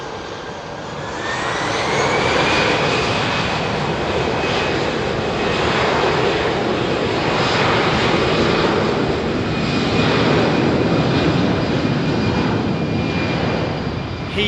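A British Airways Airbus A380 comes in to land at London Heathrow with its gear down, a loud, steady jet roar that swells in and holds close and unbroken throughout.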